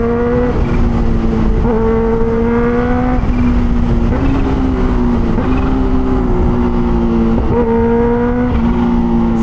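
A loud Kawasaki H2 Carbon superbike engine revs again and again, the pitch climbing and dropping in a steady cycle of throttle blips, close and continuous.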